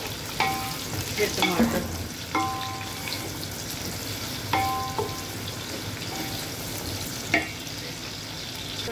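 Onions sizzling in a pan while making aloo gobhi, a continuous dense crackling fry with occasional metallic clinks of a stirring utensil and a brief spoken word near the end.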